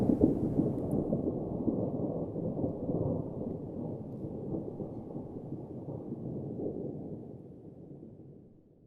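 A deep, heavy rumble of thunder rolls on for several seconds, a dense low roar that slowly fades away with no voices.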